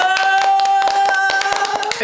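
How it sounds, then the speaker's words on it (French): A few people clap for a guest in a casual indoor setting, with sharp, irregular, close hand claps over a sustained tone and voices underneath. "On peut l'applaudir."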